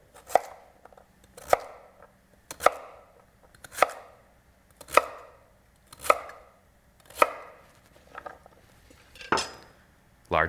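A knife dices a sweet potato into large cubes on a cutting board, producing nine sharp, evenly spaced chops about a second apart, close and distinct with no talking.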